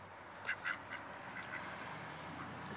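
Ducks give a few faint, brief quacks early on, a couple of soft calls close together over a quiet, steady background.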